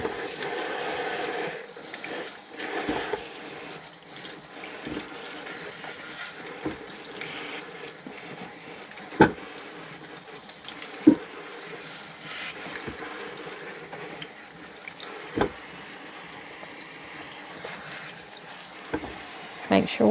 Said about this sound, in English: Throw them in here in this colander. Make sure they're good and rinsed.